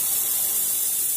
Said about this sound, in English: we're just going to spray this at a very sharp angle